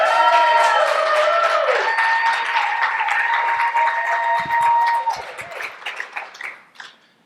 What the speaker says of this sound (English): Big hand of applause for Brice.